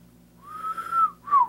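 A person tries to whistle, producing two short, breathy, wavering tones, the first a rising then falling note and the second a brief higher blip, faint against a low background hum.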